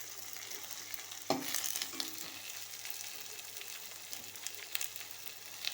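Chopped tomato going into hot oil in a pan for a catla fish curry, with a sharp burst of sizzle as it lands, then steady frying with light stirring scrapes, quiet and without talk.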